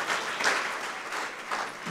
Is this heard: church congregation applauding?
yes